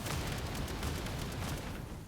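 Explosions fired beneath a flying character in The First Descendant, heard as a faint, dense run of muffled booms and bursts lasting about two seconds.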